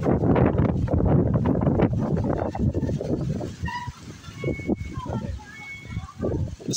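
Strong outdoor wind gusts roar and buffet the microphone loudly at first, then ease into quieter rustling gusts while faint voices and scattered small sounds come through.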